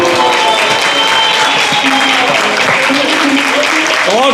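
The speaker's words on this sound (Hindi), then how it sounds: "और जोर से तालियां बजाइए" A crowd applauds a stage play performed by devotees, dense steady clapping filling the hall throughout, with voices and a tonal sound cutting through the applause.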